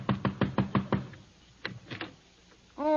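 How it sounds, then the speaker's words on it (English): Six quick, evenly spaced knocks rap on a wooden door at close range, followed by a pause, a couple of scattered thumps and the start of a voice. "go ahead. Knock on the door."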